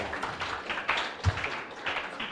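An audience claps for student presenters, a short burst of scattered, moderately loud applause with uneven rhythm.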